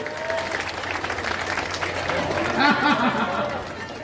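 An audience at a momo shop inauguration clapping together in a dense, continuous round of applause, with voices and chatter mixed through it.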